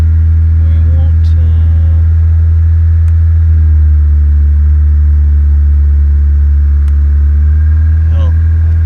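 A car engine runs at a raised idle of about 2,000 RPM on its first start with an AEM EMS fitted, a loud, steady hum throughout as someone talks over it.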